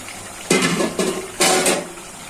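Green chilies added to beef simmering in oil in a pot, producing three short bursts of loud sizzling and splashing that fade quickly between them.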